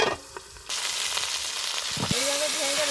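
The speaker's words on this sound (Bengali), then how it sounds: "চিকনি শাক তরকারির জন্য কাতলা মাছের মাথাটা ভেজে নিব।" A 380-gram catla fish head fries in oil, a loud steady hiss that swells after a brief quieter start, with a faint tonal whine near the end.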